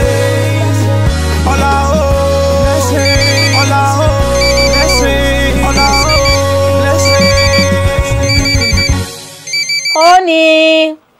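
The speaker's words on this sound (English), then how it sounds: "your phone is ringing" A melodic phone ringtone plays loudly and steadily for about ten seconds, its tune repeating, then gives way briefly to a different, higher ringing tone just before stopping.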